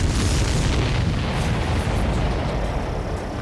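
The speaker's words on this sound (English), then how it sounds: "Did you see that explosion? Looks like that's one of them down." A supply ship blows up in the Ace Combat 7: Skies Unknown flight game, giving a loud, sustained rumbling explosion with a dense low roar that fills the whole moment and slowly tapers, with no voices.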